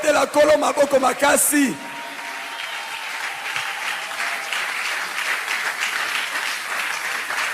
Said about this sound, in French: Est-ce qu'on peut acclamer pour le roi?